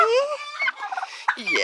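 A young chick or hen gives a series of loud, close chirping and peeping calls that rise and fall in pitch. The calls come one after another without a break, and no one speaks over them.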